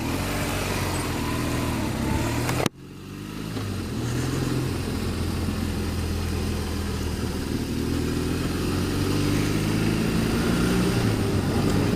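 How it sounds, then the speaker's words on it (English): Adventure motorcycles sit at a start line on Megalong Valley Road in NSW, Australia, their engines running with a sustained droning rumble. An abrupt break occurs partway through, after which the engine note resumes and rises steadily. "start your engines"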